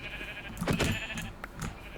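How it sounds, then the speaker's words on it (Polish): Sheep in the Minecraft video game bleat two or three times in quick succession, clear and close, with no talking over them. "Czekaj, bo tu są te owce chyba."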